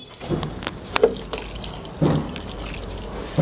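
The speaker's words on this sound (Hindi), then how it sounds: "अब आप इन सभी प्लांट्स में पानी लगाएंगे" Amaryllis lily plants are watered, with splashing and trickling water pouring into the soil and scattered drips against steady background noise.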